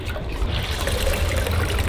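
Indigo dye water streaming and dripping back into the vat from a cotton shirt just lifted out, a close, steady trickling splash with no speech.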